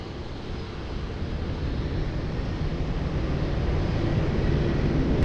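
Airplane taking off at Lisbon Airport, a steady broad roar that swells slightly as it goes, heard at a distance with wind-like rumble and no voices.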